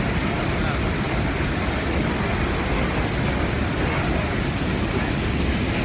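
The Iguaçu waterfalls roar in a dense, unbroken wash of loud white noise, steady and enveloping throughout, as if standing close to the falling water.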